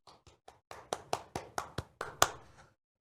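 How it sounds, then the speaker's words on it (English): A lone pair of hands claps about a dozen times in a loose, speeding-up rhythm, growing louder and then stopping, close and dry with no crowd. "Congrats. Round of applause."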